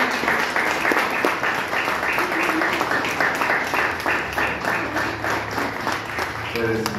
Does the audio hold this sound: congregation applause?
yes